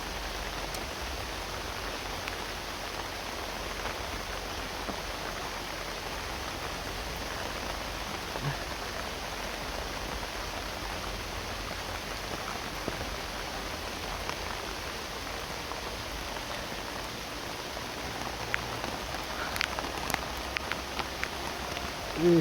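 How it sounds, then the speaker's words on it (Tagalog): Steady rain falls, producing a continuous even patter and hiss that stays constant throughout, with a few sharper drops standing out near the end. "So sana ay hinto na itong ulan"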